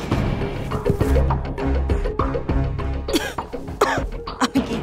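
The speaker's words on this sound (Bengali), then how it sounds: "কাশিটা না বন্ধ করলে ঘুমাবো কি করে?" A person in a Bengali family drama coughs repeatedly, rough, chesty bursts in an uneven series, close by and fairly loud, with no speech.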